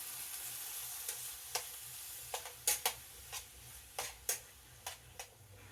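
Onions, peppers and other vegetables fry in a pan with a quiet, steady sizzle, broken by sharp clicks and scrapes of stirring that come at irregular intervals.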